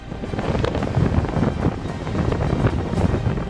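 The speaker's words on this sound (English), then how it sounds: "the waves can be big enough to rough up even a large offshore drilling rig." Large North Sea waves slam against an offshore drilling rig, a loud, continuous rumbling roar of surf and water with heavy wind buffeting the microphone throughout, no voices.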